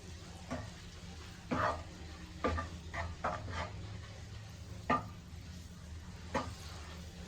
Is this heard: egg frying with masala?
yes